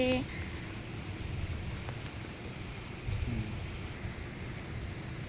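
Steady rain falls outdoors in a continuous broadband patter, with a faint bird chirp and brief tones over the wash, fairly loud and unbroken throughout.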